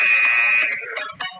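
An electronic workout timer buzzer during a kettlebell Tabata session sounds one steady, fairly loud tone for just over half a second, then fades into a faint room tail.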